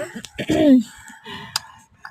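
Chickens and roosters on a poultry farm where the birds are sick, with short clucks and a brief crow-like call close by. Faint talk and background noise run underneath.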